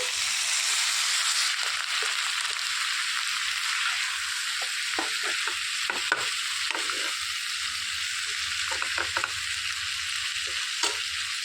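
Brinjal pieces, cut into quarters and soaked in salt water, fry in a pan of oil with a steady, loud sizzle, broken by brief scraping and clattering as they are stirred.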